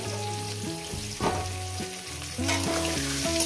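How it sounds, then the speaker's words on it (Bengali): Potatoes frying in a pan for Bengali chicken kosha, a steady close sizzle with music-like tonal layers running underneath and a few brief stirring scrapes. "আলুগুলোকে লাল লাল করে ভেজে নেব।"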